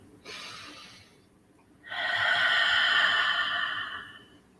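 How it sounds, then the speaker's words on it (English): A slow, deep inhalation drawn in near the microphone: a brief airy intake, a pause, then a longer, steady breath in that holds for a couple of seconds before easing off, with no talking over it. "with a deep breath in, we center ourselves into this very moment"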